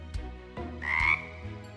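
A cartoon frog princess character lets out a few loud, close croaks, separate throaty bursts with a short tonal croak in the middle, and no talking.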